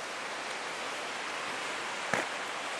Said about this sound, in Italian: c'è questo fiume che scorre